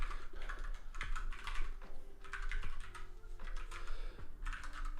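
Rapid clacking keystrokes on a new computer keyboard, steady and close with irregular bursts of typing and a few heavier key thumps, no voice.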